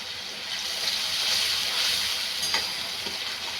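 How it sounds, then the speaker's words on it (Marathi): Sprouted moth bean masala frying in a pan, giving a steady loud sizzle and hiss of hot oil, continuous and close, with a brief clink near the end. "छानपैकी फ्राय होऊ दे।"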